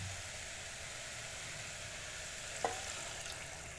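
Curry with freshly added coconut milk simmers in a small open pressure cooker, a soft, steady bubbling hiss at low volume with one faint clink of a utensil, no voices.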